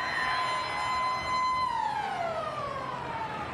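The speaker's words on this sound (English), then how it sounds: "Siren has sounded, but it's not over yet." A long wailing siren sounds at a 1996 rugby league match between North Sydney and St George, a loud tone holding steady and then gliding downward over a faint crowd murmur.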